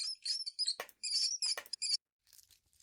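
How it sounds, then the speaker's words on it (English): A mouse in a video game squeaks and squeals in pain, several shrill, piercing bursts in quick succession with sharp clicks between, then abruptly cut off into near silence. "The mouse's pain squeaks and squeals pierce through until they're abruptly cut off."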